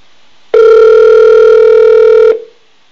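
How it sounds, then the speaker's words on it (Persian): Telephone ringback tone on a call placed from a Persian TV studio, a single loud steady electronic tone lasting nearly two seconds, then cutting off abruptly into silence. "ببینیم زنگ میخوره یا مثل اون روز وصل نمیشه"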